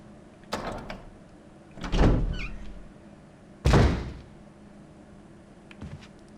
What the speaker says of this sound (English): And we can use the sword key on this door.